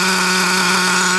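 A Traxxas T-Maxx nitro RC truck engine runs hot and slightly lean, giving a steady, loud, high-pitched buzzing drone with strong harmonics that hold even throughout.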